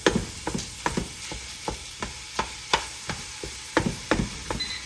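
Chili ingredients browning in a half cup of butter in a pan give off steady frying sizzle, punctuated by regular sharp scrapes and taps of stirring roughly every half second, close and moderately loud with no voices.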